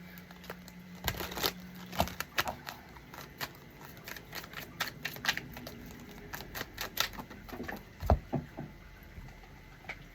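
Tarot cards from a love deck are shuffled and pulled, giving irregular soft snaps, flicks and riffles close to the microphone, scattered in uneven bursts with no talking.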